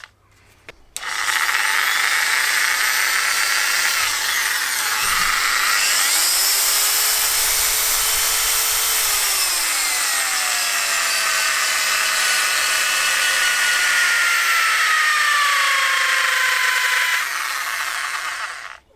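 A cheap Kmoon car polisher bought from AliExpress whirs steadily at close range for about sixteen seconds, starting abruptly and cutting off at the end, with a shifting electric-motor whine and no talking.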